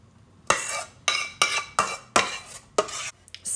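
A spoon spreads white sauce over pumpkin pesto lasagna in a dish, with about eight short, wet scraping strokes in a loose rhythm, close by and with no talking.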